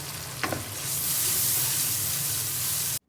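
Masala being fried in ghee for Lahori murgh cholay, a steady close sizzle with a brief stirring scrape near the start, continuous and loud until it cuts off abruptly.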